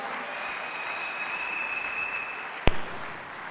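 Congregation applauding at a church thanksgiving service in praise of the Lord: steady, dense clapping that continues throughout, with one sharp click near the end.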